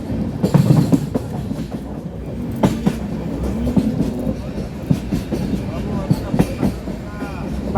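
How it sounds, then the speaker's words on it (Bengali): Train 13125 Kolkata–Sairang Express rolling onto the Farakka Barrage, heard from inside a coach as a steady rumble with rhythmic clickety-clack of wheels over rail joints and occasional metallic knocks, with voices in the background. "আমরা ফারাক্কা ব্যারেজে ঢুকে গেলাম। ট্রেনে ইঞ্জিন ঢুকে গেছে"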